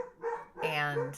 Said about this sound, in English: my dogs are doing their imaginary barking again